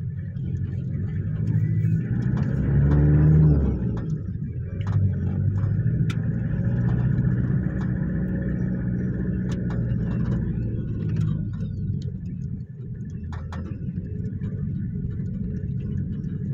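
A motor vehicle creeping slowly in second gear along a flooded road, its engine giving a steady low rumble that swells briefly early on, close up and continuous, with faint clicks and sloshing over the drone.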